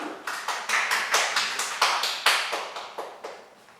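Light clapping from a small lecture audience welcoming a speaker, with distinct individual claps sounding in a fairly regular rhythm before fading out.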